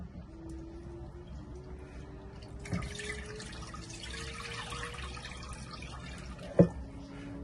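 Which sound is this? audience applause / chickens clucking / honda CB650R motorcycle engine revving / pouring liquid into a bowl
pouring liquid into a bowl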